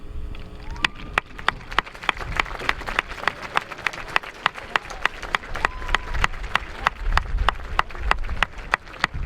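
A graduation audience applauds veterans with sustained, dense clapping from a large crowd, steady and fairly close, lasting throughout without any speech.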